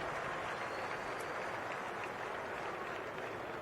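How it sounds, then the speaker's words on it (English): Dense crowd roar and applause fill an IndyCar race grandstand as the field goes green after a crash, a steady, loud wash of noise throughout with no distinct voices. "Listen to that crowd."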